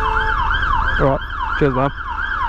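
Emergency vehicle sirens wail loudly and continuously through London traffic, with a rising and falling tone interrupted by two short blaring horn blasts, while someone briefly speaks.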